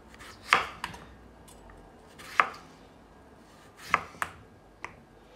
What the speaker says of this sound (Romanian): Tăiem prima dată așa un pic cartofi aici ca să putem să-l punem și începem să-l tăiem în rondele mici.